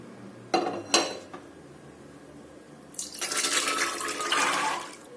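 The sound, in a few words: putting beans into pressure cooker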